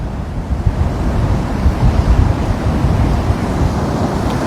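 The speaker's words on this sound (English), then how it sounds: "I want you to kind of hear the waves if you can." Ocean waves break and wash continuously onto Waikiki beach in Hawaii, a loud, full roar of surf with strong wind buffeting the microphone throughout, no voices.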